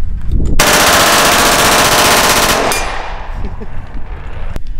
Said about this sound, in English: I'm just gonna fire this brick now.